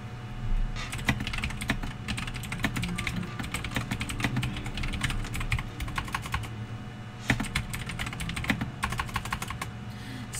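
Rapid typing on a computer keyboard, a dense run of light plastic key clicks in irregular bursts with short pauses, close and fairly quiet, with no talking.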